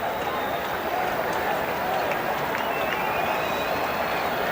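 A big crowd of about 51,000 at a 1988 Red Sox baseball game against the Yankees keeps up a steady, dense roar of cheering and murmur throughout, heard from a distance with no sharp breaks.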